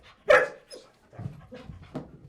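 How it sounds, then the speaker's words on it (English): A police K9, a mixed German Shepherd and Belgian Malinois, lets out a loud close bark, followed by softer whimpering and panting-like vocal sounds. "That's another benefit of having a mixed dog like this with a purebred German Shepherd, a purebred Belgian Malinois."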